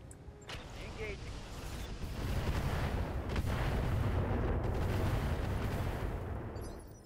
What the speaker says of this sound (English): there's the mortar up there